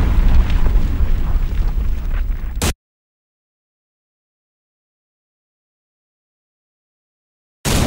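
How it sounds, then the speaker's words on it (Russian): A grenade blast in the World War II strategy game Rush for Berlin, set in the fall of Berlin: a loud, dense, roaring explosion lasting nearly three seconds, then abrupt silence before a short burst returns at the end. "Граната!"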